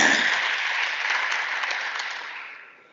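An audience at a provincial legislature symposium in KwaZulu-Natal breaks into sustained, dense clapping that holds steady, then tapers off at the end.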